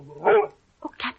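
A dog named Diogenes gives two quick, close barks, the first fuller and the second a shorter yip, with a brief gap between them and no talking.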